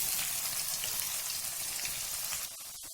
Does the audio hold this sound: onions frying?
yes